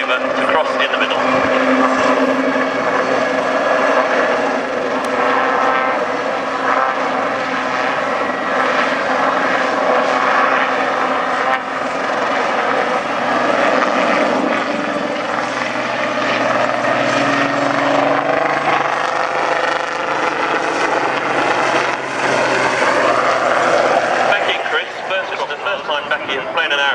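Black Cats helicopter display team aircraft flying at the RNAS Culdrose airshow, a steady loud engine and rotor drone with shifting pitch throughout, with commentary spoken over it.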